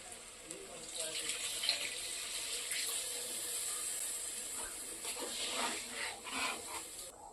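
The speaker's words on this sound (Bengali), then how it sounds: "এখন আমি জল দিয়ে দেব।" Water is poured into a pan of potato and pointed gourd curry cooking on the stove, a continuous splashing hiss lasting several seconds with small surges and dips in flow.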